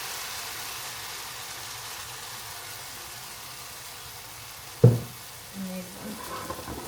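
Handvo batter sizzles steadily in a hot pan, a soft, even frying hiss throughout, broken near the end by a sharp knock and a few utensil sounds.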